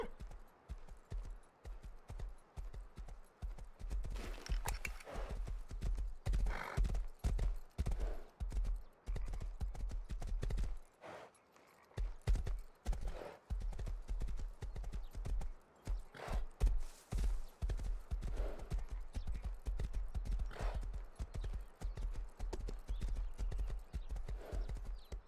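A horse ridden in the Rust video game clip-clops steadily, rapid hoof beats running almost continuously with a short pause, close and fairly faint, with a whinny and light talk mixed in.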